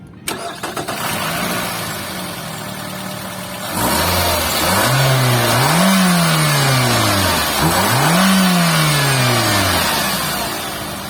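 A 2014 Renault Koleos with a 2500cc QR25DE engine cranks briefly and fires up. It then revs loudly twice in rising and falling sweeps before settling toward idle, close and alone.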